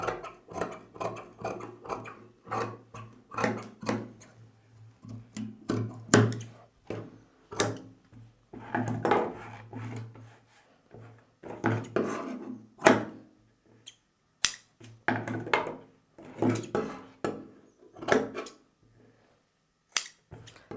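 Scissors cutting blouse fabric along a marked armhole shape, in rapid bursts of crisp snips with short pauses between, close and clear, with no voices.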